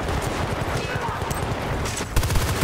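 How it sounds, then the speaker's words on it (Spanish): Rapid bursts of gunfire rattle continuously in the video game Battlefield: Bad Company 2, loud and close, with a sharper volley near the end. "Hay tiros ahí"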